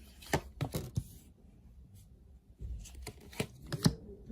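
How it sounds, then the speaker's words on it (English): Tarot cards shuffled and dealt out in a handful of quick riffling bursts separated by a short pause, close and crisp, with no talking. "Let's lay out some cards for Cancer, Pisces, Scorpio and see what's coming up here."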